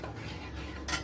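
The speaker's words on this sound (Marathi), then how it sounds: "हे पूर्ण आपल्याला हलवून घ्यायचं सगळं." A spoon stirs a vermicelli mixture for nawabi kunafa, giving a brief, soft scrape and clink against the dish. It is quiet and close, with no talking.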